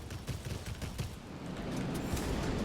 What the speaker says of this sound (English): we can do a hell of a lot of damage with these cannons